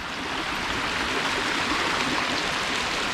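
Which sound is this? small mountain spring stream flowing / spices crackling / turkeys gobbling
small mountain spring stream flowing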